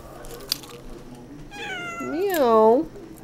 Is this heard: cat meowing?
yes